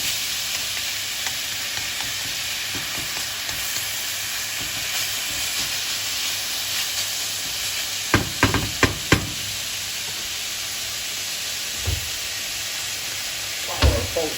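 Bacon sizzles and fries in a pan, a steady dense crackling hiss that runs throughout, with a few sharper pops and scrapes later on.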